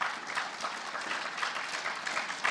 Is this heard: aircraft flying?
no